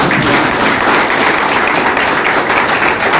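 Loud, steady applause from an audience at an event launching social initiatives in honour of a government prosecutor, dense clapping sustained throughout without a break.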